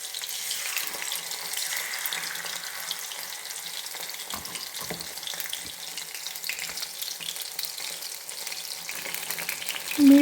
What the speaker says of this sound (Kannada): ಸ್ವಲ್ಪ ಸಿಡಿಯುತ್ತೆ, ಸ್ವಲ್ಪ ಕೇರ್ಫುಲ್ಲಾಗಿ ಹಾಕ್ಕೋಬೇಕು.